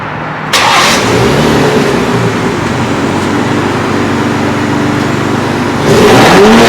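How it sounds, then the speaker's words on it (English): A 2025 BMW M340i xDrive engine cranks and catches, then idles with a steady rumble before a short rev swells near the end. "what it sounds like when I'm revving it"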